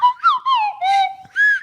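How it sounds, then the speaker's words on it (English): A quick series of whistled sliding tones, used as a comic sound effect, rising and falling in short bursts, clear and close with nothing else around them. "Slide whistle."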